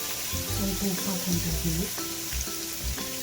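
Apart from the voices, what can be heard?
eggs frying in a pan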